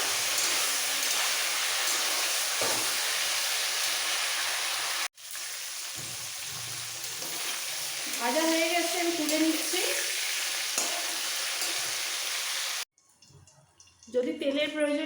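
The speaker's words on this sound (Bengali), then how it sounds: "তেলের মধ্যে এগুলো এই সবজিগুলো নাড়াচাড়া দিয়ে হালকা করে মিলে নিতে হবে" Vegetables for a coconut sukto sizzle steadily in hot oil while being stirred, with a continuous loud frying hiss, one brief break, and a voice speaking over it toward the end.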